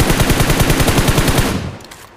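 Automatic gunfire in a mobile battle royale game rattles in a loud, fast, even burst of about twenty shots, then cuts off and fades into quieter game ambience.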